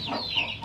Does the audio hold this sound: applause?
no